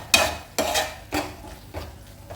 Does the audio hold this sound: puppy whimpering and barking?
no